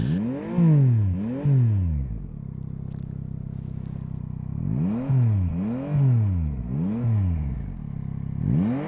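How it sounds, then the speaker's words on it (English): A Yamaha Tracer 9 GT three-cylinder motorcycle engine revs repeatedly, rising and falling in sharp bursts with a pause between groups of revs, loud and close. "what won me over to Yamaha is the sound of its triple engine"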